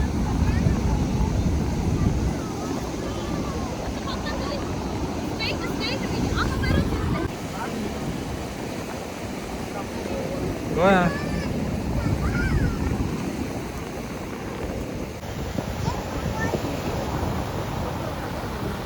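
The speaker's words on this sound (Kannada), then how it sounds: "ಅಲೆಗಳ ಸೌಂಡ್ ಅಂತೂ ತುಂಬಾನೇ ಜೋರಾಗಿತ್ತು" Loud ocean waves surge and crash against rocks on a coastal Karnataka beach, a continuous roar with heavy wind buffeting, and a brief faint voice partway through.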